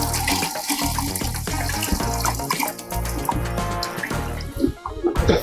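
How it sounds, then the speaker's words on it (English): Water sloshing and splashing in a bowl as beans for moi moi are scrubbed and rinsed by hand, with steady pouring and dripping sounds close by and no talk. "I'll use my hand and scrub it and wash it very well."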